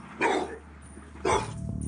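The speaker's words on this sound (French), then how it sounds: "il y a le chien qui gueule" A dog barks twice outdoors at dawn, about a second apart, fairly loud against a low background hum.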